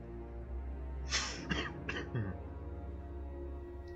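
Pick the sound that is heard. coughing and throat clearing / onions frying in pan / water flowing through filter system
coughing and throat clearing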